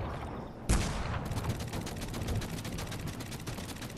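Rapid gunfire from Fortnite, an opening sharp report followed by a steady stream of rapid shots, loud and close, with no voices.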